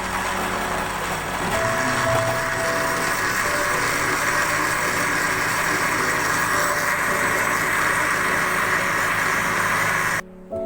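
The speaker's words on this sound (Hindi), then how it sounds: "ये सब चीज़ें डालने के बाद हम इसको अच्छी तरह से ब्लेंड कर लेंगे।" Electric blender whirring through watermelon chunks with sugar, lemon juice and water for a sherbet, a loud continuous motor drone that shifts pitch early on, runs steadily for about ten seconds, then cuts off abruptly.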